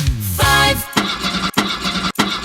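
A car engine cranks as a radio ad sound effect: a whining starter turns over, followed by a series of rough, repeated chugging attempts broken by short gaps, loud and close with no voice over it.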